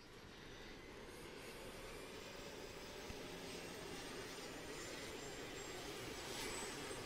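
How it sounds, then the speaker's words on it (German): A helicopter engine in the video game DayZ gives a steady, loud drone with a broad roaring hum, continuous throughout with no talking. "Der hört sich so komisch an, das Heli."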